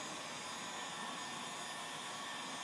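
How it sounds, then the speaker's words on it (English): Hot air from a heat gun rushes steadily under 3M Crystalline window tint film, a continuous broadband whoosh at even loudness for a few seconds with no speech. "I'm going to go ahead and start applying my heat from the underside, just getting that airflow"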